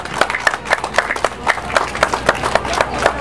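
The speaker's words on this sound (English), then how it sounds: "join me in a round of applause for our corporate sponsors" Steady, rhythmic clapping with sharp, evenly spaced claps at a health fair, like a small group applauding at a moderate pace.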